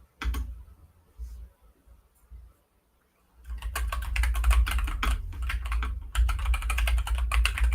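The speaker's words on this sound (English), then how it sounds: "Oh my god, I'm typing properly" Typing on a computer keyboard, first a few scattered keystrokes, then a short pause, then fast, continuous clattering bursts of keys close by, with no voices.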